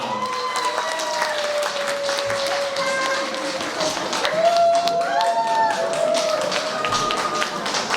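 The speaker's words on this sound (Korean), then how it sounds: "장지우 점장님 큰 박수 부탁드립니다" Steady, dense applause from an audience in a hall at an auditorium opening event, welcoming a store manager's trot singing performance, sustained and fairly loud throughout with music-like tones layered on top.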